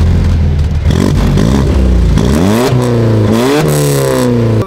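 A car engine revs repeatedly through a loud exhaust, pitch climbing and falling in several close, throaty bursts.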